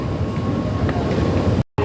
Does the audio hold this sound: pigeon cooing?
no